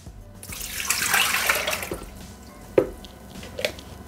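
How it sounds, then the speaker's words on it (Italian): Water poured into a Thermomix (Bimby) mixing bowl while cooking gratinated broccoli, a broad splashing pour that fades into trickles and a couple of distinct drips, close and moderately loud with no voices. "Iniziamo la ricetta mettendo all'interno del boccale l'acqua"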